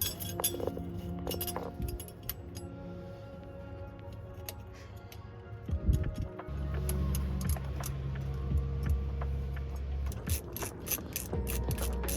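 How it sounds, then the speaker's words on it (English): A ratchet torquing down a Mazda Miata crank bolt held by a DIY crank tool: repeated close metallic ratchet clicks with clinks of tools, a steady low hum in the middle, and a fast ratcheting run at the end. "I was able to safely torque down the crank bolt"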